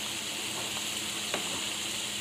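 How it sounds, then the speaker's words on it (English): Steaks frying in a pan, a steady close sizzle with a few faint scrapes and one brief sharp crackle, no voices. "they're still pretty much frying"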